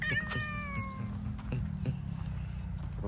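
A cat meows once, clear and nearby, with a falling tone at the start. Scattered faint ticks and a low steady background hum follow.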